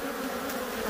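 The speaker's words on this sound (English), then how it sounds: "Man, there are just a million bees." A dense swarm of killer bees buzzes close by, a thick, continuous droning hum of many wings with slight wavering in pitch, no voices.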